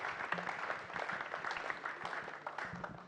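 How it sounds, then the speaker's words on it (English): Applause from an audience at the 2019 National Science and Maths Quiz welcomes a speaker to the stage, a fairly even wash of clapping held at moderate distance for the full stretch. "let's make our applause loud for Nana Ikuya Ankoma Asare"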